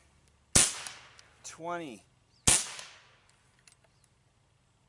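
Two sharp shots from a Benjamin Discovery air rifle, each a crisp crack with a short ringing tail, spaced about two seconds apart, with a brief spoken word between them.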